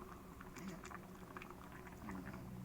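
Pork simmering in a pot of water for a Lao-style curry with cassia leaves, giving a steady low bubbling and burbling that runs through the whole stretch at a fairly quiet level.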